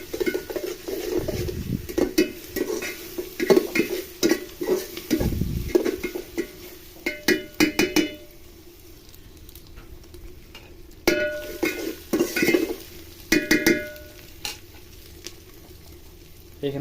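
Ginger-garlic paste, stone-ground on a grinding slab, stirred and scraped in a hot frying pan while it sizzles, with repeated loud spoon strokes in bursts and quieter stretches of steady frying between them.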